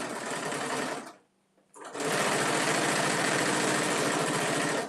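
A sewing machine runs at a fast, steady buzz, stops for under a second, then starts again and keeps stitching loudly and evenly.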